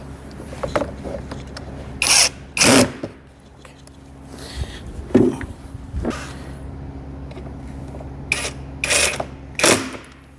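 A power drill drives small bolts into a Torres car console, several short, loud whirring bursts separated by pauses, close by, with faint handling noises and a little speech in between.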